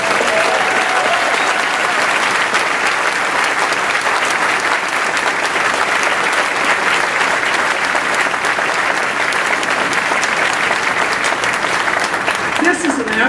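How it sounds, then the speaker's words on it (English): Sustained, loud crowd applause fills the outdoor christening ceremony of the ship USNS Medgar Evers, an unbroken wash of clapping from a large audience lasting the whole stretch without pause. "may I ask you to please give the Secretary of the Navy, former Governor of Mississippi, Ray Mabus, another round of applause."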